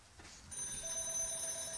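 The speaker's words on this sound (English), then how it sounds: "That is a phone." A telephone rings in a quiet room during a live game-update stream, a steady electronic bell tone that starts partway in and holds on continuously, fairly faint and heard alone without talk.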